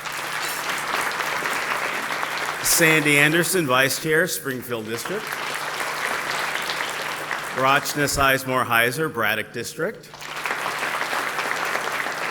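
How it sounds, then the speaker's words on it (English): Audience applause at a school board inaugural State of Our Schools event, steady and full throughout as board members stand, with a man reading names aloud over the clapping. "if you would please give them a round of applause"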